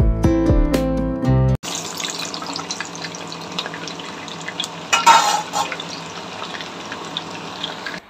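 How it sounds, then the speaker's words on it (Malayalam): Chopped ginger and garlic frying one at a time in a pan for homemade pickle, a steady sizzling hiss following a brief musical opening, with a louder spatter partway through. "പിന്നെ ഇനിയിപ്പം ഇഞ്ചി വെളുത്തുള്ളി ഓരോന്ന് സെപ്പറേറ്റ് വറുത്തെടുക്കട്ടെ"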